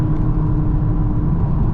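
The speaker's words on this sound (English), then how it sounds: "Exhaust sounds nice." Steady, deep exhaust drone from a 2025 VW Golf GTI Clubsport MK8.5 on the road, heard from inside the cabin at part throttle with a continuous low rumble and no talking.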